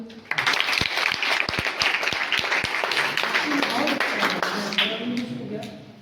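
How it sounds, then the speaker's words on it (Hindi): Audience applause at a Teachers' Day program, a burst of close, sharp hand claps that thickens into steady clapping and fades toward the end, with voices underneath. "मैं ये चाहूँगा कि आप सबके लिए हमारी तरफ से एक ताली हो"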